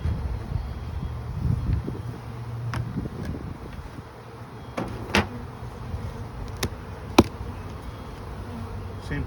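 Honey bees buzz steadily around a comb honey hive outdoors, a close, continuous drone with light wind noise and occasional sharp clicks from handling the hive.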